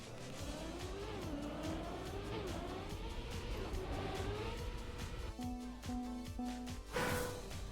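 A car engine in Trackmania hums and shifts pitch continuously through a drift, with a brief tonal beeping near the end and a short whoosh at the close.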